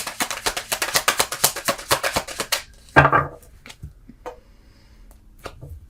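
Tarot cards being shuffled by hand, a quick run of crisp riffling snaps for about two and a half seconds, then a single louder slap and a few scattered soft taps.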